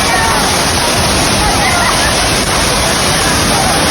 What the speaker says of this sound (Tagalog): So ito na yung Daranac Falls.